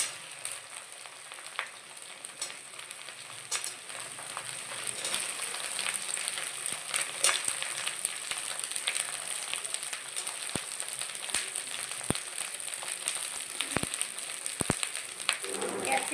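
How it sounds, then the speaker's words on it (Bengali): Capsicum fries in a hot pan for chilli chicken, a constant close sizzle and crackle with occasional sharper ticks and clicks from stirring, and no speech. "2 মিনিট নেড়ে নিয়ে আমি ক্যাপসিকামগুলো ফার্স্টে দিয়ে দিলাম।"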